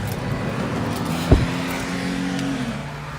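A car engine idles steadily and close by with a low drone, one sharp thump partway through, then the tone shifts slightly as it settles.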